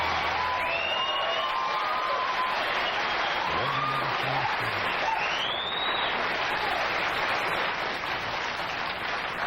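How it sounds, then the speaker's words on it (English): A fired-up studio audience at a Johnny Carson late-night show applauds and cheers in a dense, steady roar of clapping that holds for the whole stretch, with a few whoops rising above it. "This crowd is fired up."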